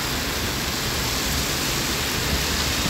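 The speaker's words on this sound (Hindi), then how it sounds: "जम से बारिश हो रहा है भैया," Heavy monsoon-style downpour pounding steadily with a dense, unbroken roar from start to finish, loud and close, with no voices over it.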